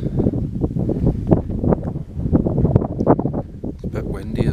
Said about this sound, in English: Windy as well.